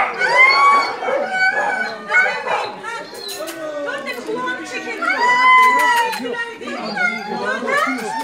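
Stray dogs kept at a municipal animal shelter, one with an injured ear from a fight, barking and howling in a noisy chorus under steady overlapping human talk and crowd chatter.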